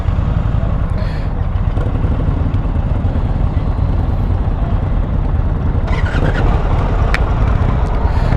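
Indian Roadmaster motorcycle underway, a steady engine drone and wind rush at constant loudness, with a couple of faint brief noises on top.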